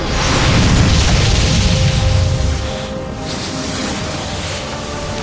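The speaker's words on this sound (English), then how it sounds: "an explosion of white light engulfed the battlefield" A heavy boom in an Icewind Dale cutscene as a portal erupts in white light on a battlefield: a loud, deep rumbling blast that holds for a few seconds, then fades into a softer lingering wash.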